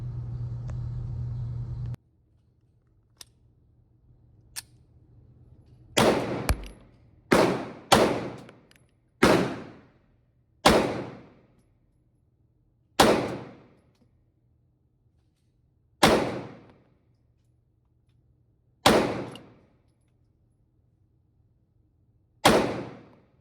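Nine sharp pistol shots from a Micro Dagger C-1 handgun with its first slide, fired one at a time at uneven intervals, each crack loud and close with a short decaying tail outdoors.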